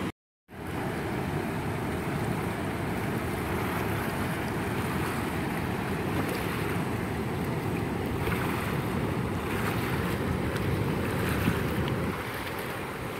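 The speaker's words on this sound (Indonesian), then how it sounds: "ini jadi kapyuk gini suaranya ya. Nah, ini karena gelombangnya termasuk banter ini gelombangnya" Strong waves on the Progo River churn and splash against the dam's tetrapods, a continuous loud roar of rushing water with wind buffeting the microphone throughout.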